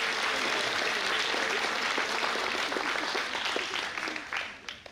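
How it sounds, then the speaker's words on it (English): Crowd at a graduation ceremony gives the graduates a big round of applause, sustained clapping with some shouts, tapering off near the end. "I think we should give them a big round of applause"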